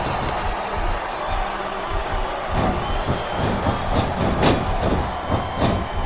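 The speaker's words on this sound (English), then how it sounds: "This capacity crowd is making their opinions known tonight." Capacity arena crowd in the wrestling game SmackDown vs Raw 2007, a steady roar of cheering and applause that swells toward the end, with a commentator's voice faintly over it.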